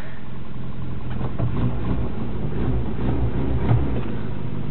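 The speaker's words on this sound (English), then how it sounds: "That's a good running motor" A 1986 Toyota truck with a transplanted engine idles steadily after a cold start in snowy weather, a low, even mid-pitched rumble with slight irregular pulses, heard close with no talking.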